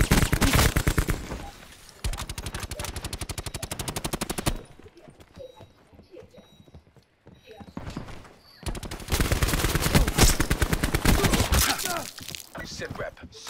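Maddox gun fired in a battle royale video game, rapid bursts of heavy automatic gunfire in two long volleys separated by a quieter gap, loud and close with sharp repeated shots.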